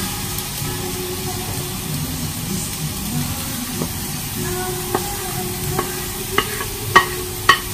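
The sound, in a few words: stirring gosari (fern brake) in a pan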